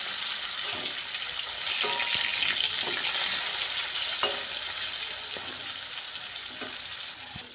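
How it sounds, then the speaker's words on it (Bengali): Grass carp frying in a pan of oil sizzles loudly and continuously up close, with a few faint clicks scattered through the steady hiss and no voices. "মাছগুলো ভাজা হতে থাক"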